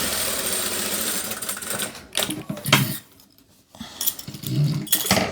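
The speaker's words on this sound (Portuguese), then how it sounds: "E o bom de fazer a costura desse lado, gente, é que a gente vê onde tá a costura da gola" A sewing machine stitches a collar seam in a dressmaking workshop, whirring steadily up close for about two seconds, then running again in shorter bursts after a brief pause.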